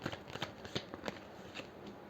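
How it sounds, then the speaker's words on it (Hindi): Tarot cards being shuffled and laid out close by: faint, quick papery riffles and soft flicks in an uneven patter, with no talk. "पहले मैं कार्ड्स ओपन कर लेती हूँ"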